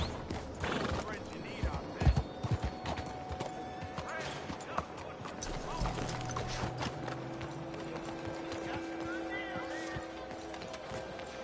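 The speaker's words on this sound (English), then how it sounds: "hell of a horse." A horse whinnies loudly near the start, followed by the steady clip-clop of hooves and a mix of mechanical rattling and background sounds that run on for several seconds.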